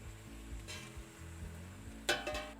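Crumbled sausage sizzling in a pan while a spoon tosses and stirs it, a steady soft fry with a clatter of the spoon against the pan near the end.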